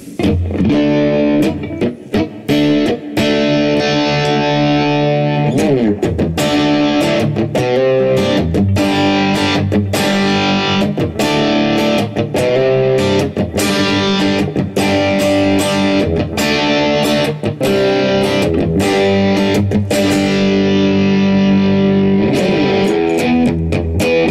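Electric guitar is played through the crunch channel of an Empress Effects Multidrive distortion pedal, loud and gritty, with strummed chords and sharp picked attacks ringing out alone, one after another, over about twenty-four seconds.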